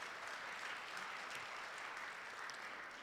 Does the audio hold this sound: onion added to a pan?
no